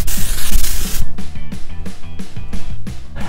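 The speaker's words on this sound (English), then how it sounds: "Now I'm just gonna grab a little wax spray and spray the ends." Wax spray is misted onto the ends of styled hair in one loud, close hiss lasting about a second, followed by quieter rhythmic background sounds.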